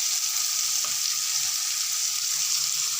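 Ground sambar spice paste frying with sautéed onions in a pan, a steady hiss of sizzling oil held at an even level throughout, with no voices.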